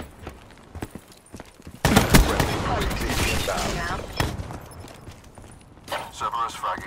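Video-game gunfire from a Cerberus killstreak erupts in rapid bursts of shots and booms, loud and dense for a few seconds, then returns in shorter volleys, with a game voice announcing in between.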